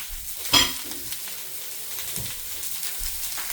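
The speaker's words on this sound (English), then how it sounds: "I'm going to throw in my onions, and I'm going to throw in my peppers" Onions and peppers sizzle in a hot pan with a steady, crackling fry throughout. A sharp clatter of stirring comes near the start, with softer scrapes later.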